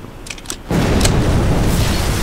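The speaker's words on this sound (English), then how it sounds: "Okay, random explosion." A sudden loud broadband blast hits partway through, then a sustained roaring rumble continues to the end, an explosion in the game Black Mesa.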